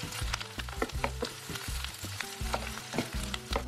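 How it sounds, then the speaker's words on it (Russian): Steady sizzling of onions frying in oil and butter, with repeated scraping and stirring knocks from a utensil in the pan. "И сначала отправляю обжариваться лук до красивого золотистого цвета."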